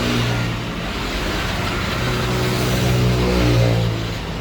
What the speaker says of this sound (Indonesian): ini starter jalan tapi mesin nggak jalan